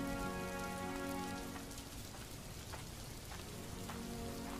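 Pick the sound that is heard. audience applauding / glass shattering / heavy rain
heavy rain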